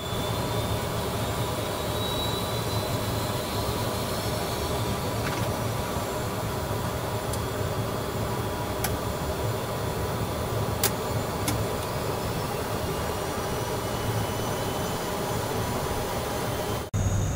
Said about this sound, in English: And we start engine number one